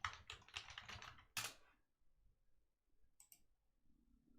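Quick bursts of keystrokes on a PC keyboard, close and crisp, followed by a pause and a couple of faint isolated clicks.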